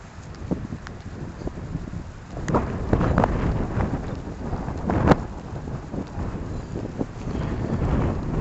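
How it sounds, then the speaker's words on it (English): Strong gusty wind buffets an outdoor microphone beside a small touristy windmill, roaring loud and continuous with rumbling surges and sharp buffeting bursts throughout. "The wind's blowing here pretty bad"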